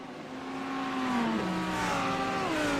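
GT3 race cars brake and work down into turn 4 during a race, their engines a loud, close, sustained roar that drops in pitch and then climbs again as they pass through the corner.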